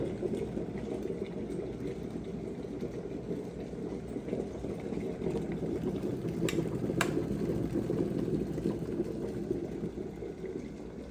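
An electric kettle heating water gives off a steady low rumbling bubble that holds constant throughout, with a couple of faint clicks near the middle and no voices.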